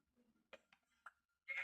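Sheep in the video game Minecraft give a few short, faint bleats, spaced apart and ending in a louder final bleat.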